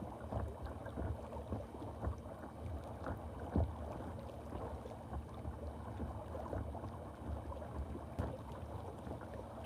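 A small boat cruises along a river between Potter Heigham and Thurne Mouth, giving a low, steady engine rumble with light water wash and occasional wind buffeting on the microphone, faint and continuous throughout.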